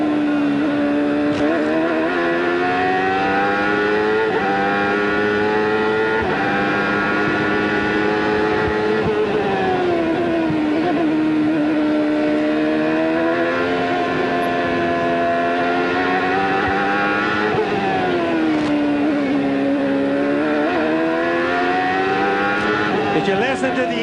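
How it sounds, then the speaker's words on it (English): A CART Indy car engine at the 1995 Detroit race drones steadily, its pitch rising and falling smoothly through gear changes and corners, loud and continuous throughout. "If you listen to the engine, you can just see how smooth the driver has to be, Paul."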